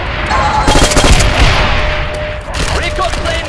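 An FG42 automatic rifle fires in the World War II shooter Call of Duty 5: loud, close bursts of rapid shots ring out in quick succession, with a brief pause before another volley.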